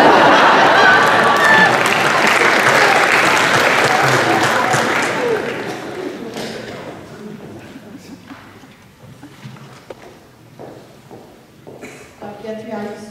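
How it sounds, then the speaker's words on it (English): Audience at a university last-lecture event claps heavily for a speaker, a dense loud burst that fades after about six seconds into scattered claps, light shuffling and murmuring voices. "To give me another heavy clap."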